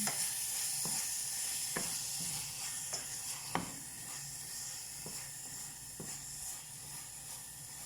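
A mousakka mixture sizzles in a pan as it is stirred, a steady frying hiss under repeated scraping strokes of a spoon about once a second, with no talking.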